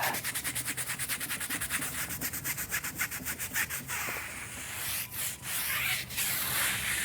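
A brush scrubbing a car tire worked with Adams tire cleaner: fast, even back-and-forth bristle strokes close up, followed by slower, longer, broader scrubs with brief pauses, loud and alone.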